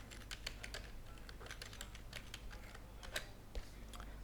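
A password being typed on a computer keyboard makes faint, quick key clicks in an irregular patter against a quiet room hum.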